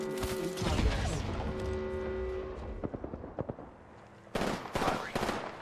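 Gunfire in Apex Legends, rapid bursts of shots with ringing tonal game effects, loud at first, then sparser cracks, then another heavy burst near the end.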